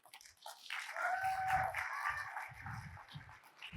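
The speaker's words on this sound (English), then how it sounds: "So a big warm applause for Wim Vertiest." Faint applause from a conference audience at a gemology congress, a soft sustained patter of clapping that swells and continues for a few seconds, with low murmurs beneath.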